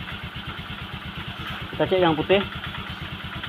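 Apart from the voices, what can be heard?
Honda Vario scooter engine running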